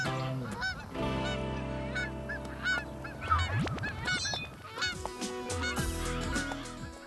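A goose honks repeatedly and loudly up close, harsh nasal calls overlapping in an irregular series, with other fowl calling alongside.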